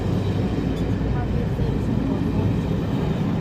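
Train carriages rolling past at Doncaster station, a dense continuous rumble and rattle of wheels close by, steady and loud throughout.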